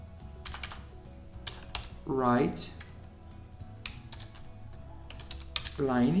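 Someone types on a computer keyboard while writing code in a programming lesson, making quick clusters of close, light key clicks in short runs, with someone talking at intervals.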